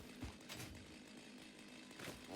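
A chainsaw runs in the video game Satisfactory, giving a steady, fairly quiet buzzing whine that holds for the whole stretch with small surges and no speech.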